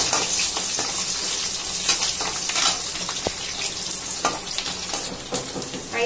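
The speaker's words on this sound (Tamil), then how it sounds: "பூண்டு சேர்த்து 1 நிமிஷம் அந்த எண்ணெயில் ஃப்ரை ஆகட்டும்." Dried chillies, curry leaves and garlic fry in hot oil for a pepper kuzhambu, giving a steady close sizzle with faint scraping and clinks and no voices.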